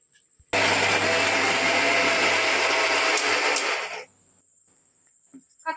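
An electric mixer grinder coarsely grinds spice masala for a home chicken dish. It starts abruptly with a loud, steady motor whine, runs without a break for about three and a half seconds, then cuts off into quiet room sound with faint movement.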